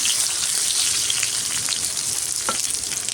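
Food sizzles hard in a pan over a high gas flame, a loud, continuous crackle and hiss with no pause, close by and with a small clatter partway through.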